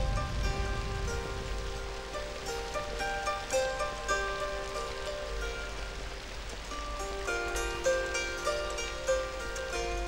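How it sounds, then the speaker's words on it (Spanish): Monsoon rain falls in the Borneo rainforest, a steady wash of drops on foliage with a constant low rumble, alone with no voices. "Entonces no para de llover"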